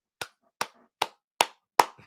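Five sharp, evenly spaced claps ring out alone in a quiet room, each a crisp isolated smack about every 0.4 seconds, with no talk.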